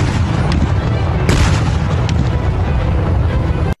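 A deafening, sustained roar follows a military ammunition explosion in Garut, West Java, with sharp blasts and cracks at about 0.5, 1.3 and 2 seconds over a dense rumble, while faint voices are heard in the chaos.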